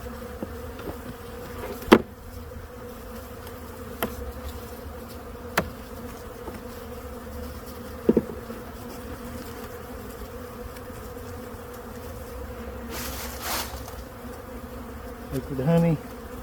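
Honey bees buzz steadily around an open hive with honey and pollen-filled frames, a close, continuous drone with occasional knocks and taps from handling the hive and no speech.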